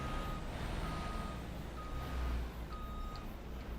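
Truck reversing beeps in Farming Simulator 25, a steady high-pitched beep repeating at regular intervals over a low engine rumble, fairly faint and without talk.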